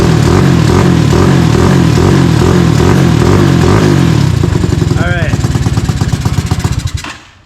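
A Tao Tao 250 YFZ ATV with a new engine revs loud and close, its throbbing, chopping note rising and pulsing before it cuts out abruptly near the end.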